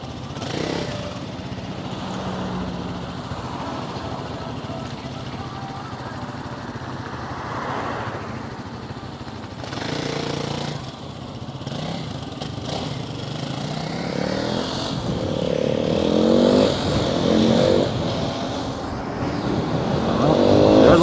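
Motorcycles ride past in a windy outdoor spot, their engines droning and rising in loudness toward the end, with wind noise throughout.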